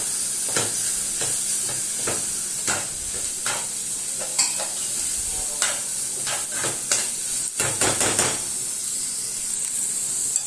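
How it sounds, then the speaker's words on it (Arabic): Peppers sautéing in a hot pan, hissing steadily as a utensil scrapes and stirs in short repeated strokes, with a cluster of sharper knocks toward the end. "نفضل نشوح فيه كده"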